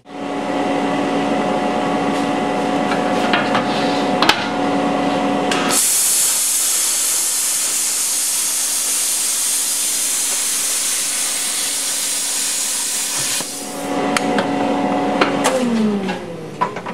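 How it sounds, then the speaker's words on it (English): A plasma cutter slicing through metal for a sign base, a loud continuous roaring hiss lasting several seconds with a steady hum and clatter before and after it. "Love my plasma cutter. It'll cut up to 1 inch if you go real slow."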